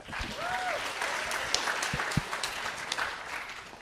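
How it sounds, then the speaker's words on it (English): Brief audience applause at a hackathon closing ceremony, a moderate, slightly distant patter of clapping with a few sharper claps standing out, lasting just under four seconds. "Give him a round of applause."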